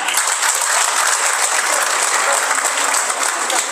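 Dense, loud crowd applause at a political gathering honouring a future mayor, sustained and even throughout with no pauses or individual claps standing out.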